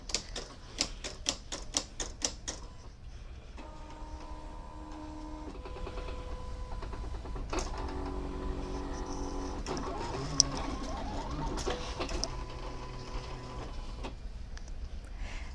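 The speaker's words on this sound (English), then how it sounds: "press cut, and then you'll see the blade adjust, your material will cut" A Silhouette CAMEO 3 cutting machine with an auto blade cuts material for a custom pillow cover, opening with a quick run of sharp ticks, then steady whirring carriage motor passes with shifting pitch and occasional clicks, close and alone.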